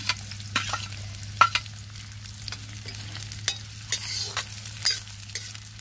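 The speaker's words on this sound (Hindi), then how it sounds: "प्याज भून रही है" Sliced onions and long-cut green chillies fry in a pan in a village kitchen, with a constant crackling sizzle and repeated stirring knocks and scrapes, close by, and no speech.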